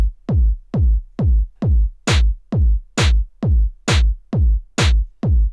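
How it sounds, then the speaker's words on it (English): A deep, heavy UK garage kick drum sample thumps in a steady, evenly spaced pattern, about twelve booming hits with a few brighter accents every few beats. "To begin, you're going to need a nice heavy kick."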